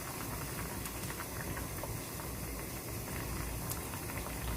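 Cheonggukjang stew with tofu bubbles steadily in a pot, giving a continuous, close boiling hiss with soft liquid pops and no voices.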